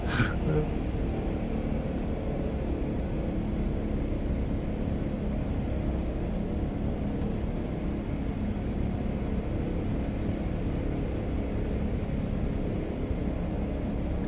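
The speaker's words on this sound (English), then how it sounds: "Tell Limp not to forget high idle before takeoff" A Black Square Cessna C208B Caravan turboprop engine in a flight simulator holds steady at high idle, a constant broadband roar and whine running evenly throughout.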